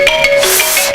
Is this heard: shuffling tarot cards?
no